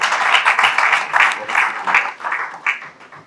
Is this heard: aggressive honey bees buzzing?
no